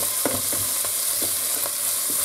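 Onion, garlic, parsley and a pinch of cayenne pepper sauté over medium heat in a pan, a constant soft sizzle broken by regular light scrapes of a spoon, close up and without talk.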